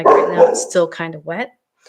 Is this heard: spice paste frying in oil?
no